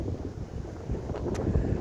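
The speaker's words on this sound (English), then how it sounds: "Welcome to a very, very windy Anglesey." Strong wind on Anglesey, Wales, buffets the microphone in a low, rumbling roar that gusts and swells throughout, with no voices.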